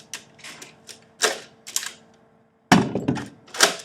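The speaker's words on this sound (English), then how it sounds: "Just stick a magazine in there." Magazine clicking and thunking into a modular bullpup airsoft rifle, several close, sharp plastic clacks and rattles in quick succession with a brief pause before a louder final seating.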